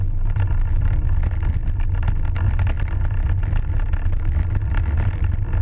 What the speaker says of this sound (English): there's a car behind us according to the radar before making a left turn